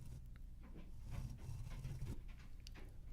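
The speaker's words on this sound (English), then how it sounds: "it's coming up near 10 o'clock and the dogs are going apeshit" Several dogs pant rapidly with occasional whimpers, a busy, restless huffing that carries on steadily for a few seconds, close and moderately loud.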